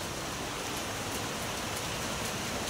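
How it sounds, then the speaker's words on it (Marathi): Heavy monsoon rain pours steadily in Indapur, a dense, even hiss of countless drops that fills the whole stretch with no voices over it. "तर बघा खूप छान पाऊस येतोय"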